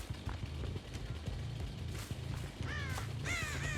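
A crow caws a few times in Dead by Daylight over a low mechanical clattering rhythm, the calls short and moderately distant.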